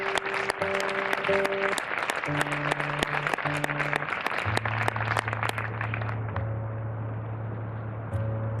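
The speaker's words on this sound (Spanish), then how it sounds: "por favor, un aplauso para Esteban." An outdoor audience applauding Esteban at a music event: dense, sustained clapping throughout, with held musical tones from an instrument sounding underneath.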